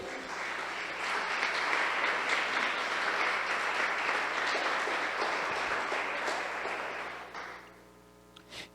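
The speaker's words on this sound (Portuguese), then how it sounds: "Aplaude a Ele." A congregation in church breaks into sustained, dense applause for about seven seconds over a low steady hum, then it tapers off and a brief sound follows at the close.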